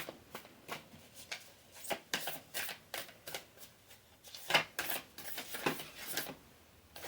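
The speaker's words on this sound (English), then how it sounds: "let's go ahead and pull some of these Spirit Oracle cards for you" Spirit Oracle cards are shuffled by hand in a series of close, crisp riffling and slapping bursts with short pauses between them, and no one speaks.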